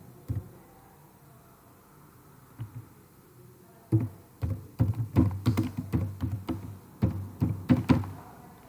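Keys clattering on a computer keyboard while text is entered in MS Word: a couple of isolated taps, then a steady burst of quick, close keystrokes with uneven rhythm and no voices.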